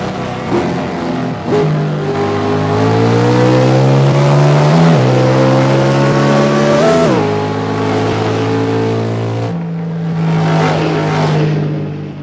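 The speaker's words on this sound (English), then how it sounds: "We had a little clutch slippage there, you could hear it." A 1967 Chevelle SS engine revs loudly and holds high, its pitch rising and dipping unevenly from a slipping clutch, then drops back and climbs again in a sustained roar.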